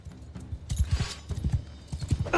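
Horse hooves clip-clopping in a video game, a quick rhythmic run of close, punchy hoof strikes in two bursts with a short pause between, mostly alone.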